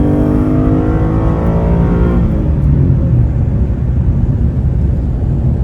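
A Dodge Challenger Hemi 392 or Mustang Boss 302 engine revs hard toward 7,000 RPM on a highway, a loud, steady, close roar whose rising tone fades into broad rumbling road and wind noise.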